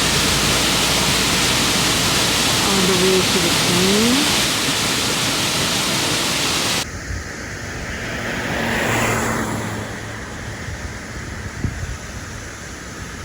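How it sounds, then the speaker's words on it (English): A waterfall beside the road near Skagway, Alaska, roars as a loud, steady rush of falling water for about seven seconds. Then it cuts to a quieter drone of a moving vehicle, with a brief spoken remark. "We stopped at a waterfall"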